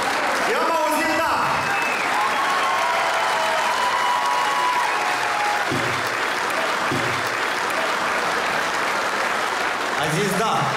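A concert crowd applauds loudly and continuously after a marriage proposal, with a few cheers and voices mixed into the clapping.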